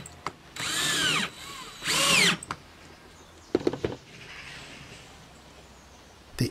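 Power drill driving screws through a clamp into rails of a museum display build, two sustained whirring bursts with rising pitch as each screw seats, followed by a few sharp knocks and faint rustling.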